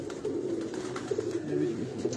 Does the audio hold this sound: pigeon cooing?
yes